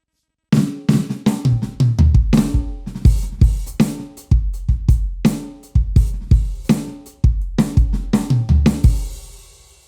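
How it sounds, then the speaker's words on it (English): A simple electronic drum beat from a Korg Nu:Tekt TR-S with punchy kicks and snappy hits repeating in a steady pattern, loud and dry with no other instruments. "So starting off, I'm just going to go a relatively simple drum sound."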